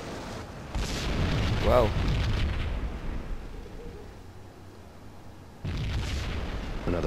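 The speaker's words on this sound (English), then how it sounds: "Another bomb exploded inside the closest slum building." A bomb goes off inside a slum building in Max Payne, a loud rumbling explosion that swells and lingers for several seconds before a second heavy blast, with a brief voice over the top.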